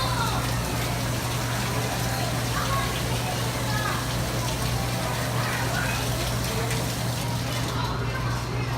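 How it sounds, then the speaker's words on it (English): Water runs steadily from a cold tap into an eyewash station, a constant broadband rushing flow with a low hum beneath it, close and unbroken throughout. "To activate it, just turn on the cold water and pull the knob out."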